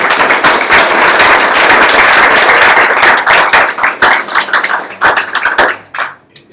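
Audience at a developers' demo day breaks into loud, dense applause that sustains for about five seconds and then thins into a few scattered final claps.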